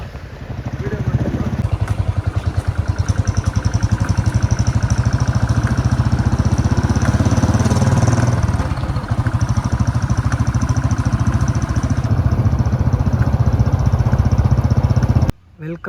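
A motorcycle engine drones loud and steady while riding through Mysuru, a continuous throbbing rumble with wind buffeting, holding nearly constant before cutting off abruptly at the end.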